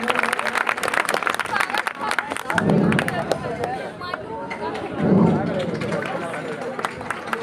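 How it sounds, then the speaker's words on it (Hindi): An audience at a school farewell ceremony claps in a dense, sustained burst amid crowd murmur, with swells of louder applause and a voice speaking over parts of it. "तालियों से जोरदार स्वागत।"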